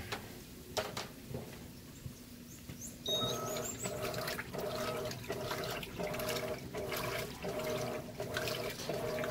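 Water rushes hard into an Electrolux top-loading washing machine (LPR13/LPR16/LPR17 series) filling under strong water pressure, a steady loud hiss with a regular pulsing throb, stepping up abruptly partway through and continuing alone.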